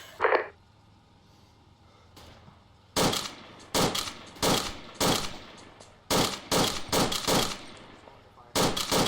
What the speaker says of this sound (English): you got someone firing next to you